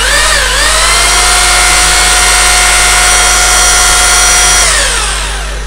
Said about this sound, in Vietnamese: chức năng khoan thường